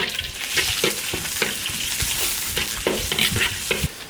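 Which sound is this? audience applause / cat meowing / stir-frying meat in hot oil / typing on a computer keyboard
stir-frying meat in hot oil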